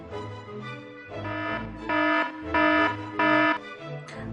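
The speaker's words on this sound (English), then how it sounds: "Don't bother, that's the alarm bell." An alarm sounds in a series of four loud, pulsing buzzes of about half a second each, separated by brief gaps, with no talk.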